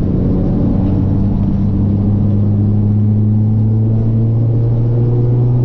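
A race car out on a track gives a steady, close engine drone with strong low harmonics. It holds an even pitch throughout, with no voices over it.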